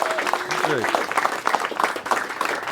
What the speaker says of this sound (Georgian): ერთი კარგი ოვაციები ამისთვის.